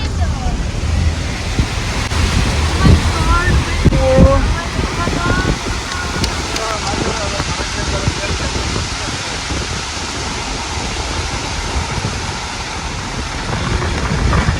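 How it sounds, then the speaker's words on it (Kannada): Steady, dense roar of heavy rain mixed with gusting wind in a village, continuous throughout with a faint voice briefly audible near the start. "ಜೋರ್ ಮಳೆನೂ ಸ್ಟಾರ್ಟ್ ಆಯ್ತು. ಗಾಳಿ ಸಮೇತ ಮಳೆ."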